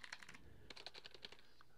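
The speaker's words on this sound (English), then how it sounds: "that's the sound of a mechanical keyboard compared to the Deathstalker" Bursts of fast, crisp key clicks from a Razer BlackWidow Tournament 2014 mechanical keyboard, two quick runs of typing separated by a short pause, close and quiet with no talking.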